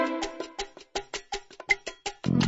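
A short melodic phrase of plucked or bowed-like tones from a violin in a Dora children's PC adventure game, a run of distinct notes in quick rhythm, clear and alone, ending in a brighter sustained chord.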